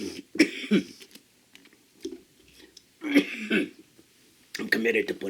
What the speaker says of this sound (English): so you're going to have to endure the cough